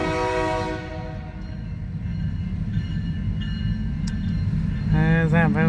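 A BNSF freight train rolls northbound through Napavine, Washington, with a steady low rumble of wheels and cars. A loud multi-tone horn blares at the start and sounds again at the end.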